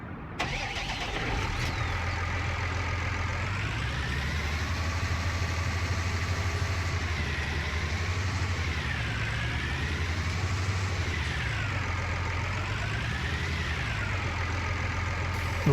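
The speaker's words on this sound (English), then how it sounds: "we need to get this tractor so we can hook up to the slurry spreader." A tractor engine idles steadily in Farming Simulator 19 before hooking up a slurry spreader, a continuous close mechanical drone with slight shifts in pitch and no talking.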